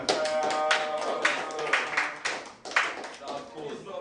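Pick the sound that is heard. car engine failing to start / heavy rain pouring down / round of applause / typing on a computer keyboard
round of applause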